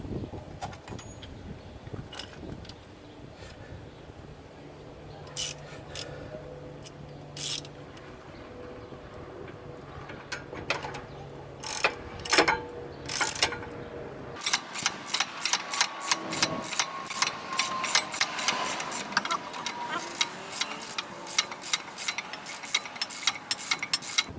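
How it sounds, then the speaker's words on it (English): Rapid ratcheting clicks from a socket wrench tightening 17mm rear brake caliper bracket bolts on a 2014 Acura MDX, starting as scattered ticks and building into a dense, steady clicking run in the second half, fairly close. "These are the 17mm screws we're putting on. The bracket screws. Where's my socket wrench?"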